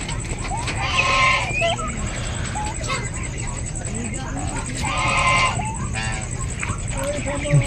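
Turkeys in a pen on a farm gobble and call in repeated warbling bursts close by, while someone talks over them and a steady high whine runs underneath.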